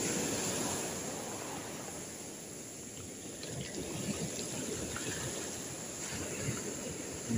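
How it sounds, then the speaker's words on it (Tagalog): Big ocean waves during strong northeast monsoon winds at a fishing spot, a constant rushing surf roar with wind, a few faint splashes and trickles, steady and fairly loud throughout. "Ang laki ng alon."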